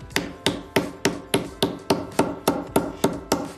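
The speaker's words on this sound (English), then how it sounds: "that'll be roughed in with this sinking hammer and this wooden stump with some depressions in it" Sinking hammer striking metal on a wooden stump with depressions, roughing in a shape: a dozen evenly spaced, ringing blows, loud and close, in a steady rhythm with no talk.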